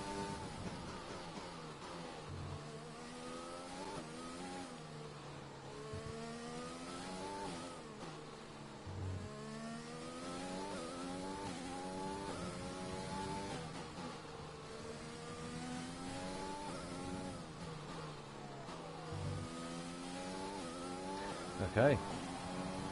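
Formula 1 race car engine in F1 2020 on a flying lap, a high-pitched whine that rises steadily through the gears and drops at each shift, sustained and continuous throughout.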